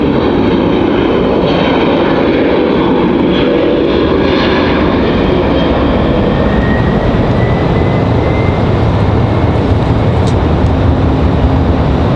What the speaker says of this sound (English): We got a Delta leaving on the back side over there, headed to Atlanta.